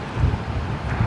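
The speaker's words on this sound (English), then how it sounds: "Very windy on level 32 in the CBD." Strong gusts of 35-knot-plus wind at Brisbane Airport buffet the microphone, a loud, close, low rumbling roar lasting about a second.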